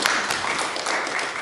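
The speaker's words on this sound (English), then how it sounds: "you should give them a round of applause" An audience at a lecture on sustainable energy strategies for Central and Eastern European countries applauds in a dense, steady burst of clapping that fills the short stretch without pause.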